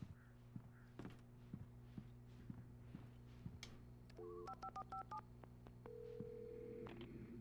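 Electronic tone beeps punch in a phone number in a quick series of pitched tones, followed by a steady ringing tone, with soft thumps and a low hum beneath, in the video game Alan Wake Remastered.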